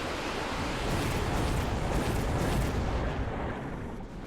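Continuous roaring explosions from units blowing up in the strategy video game Mechabellum, a loud, dense rumbling barrage that holds steady for several seconds before easing slightly at the end.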